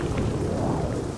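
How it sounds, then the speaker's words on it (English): Rain in the video game Morrowind, a steady, low, rushing hiss of downpour with a faint rumble beneath and no other sounds or voices. "There, now it's morning and it's still raining."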